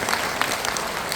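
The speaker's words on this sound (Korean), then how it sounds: "박수 한번." Audience applause at a network business presentation, a brief dense burst of many hands clapping at an even level.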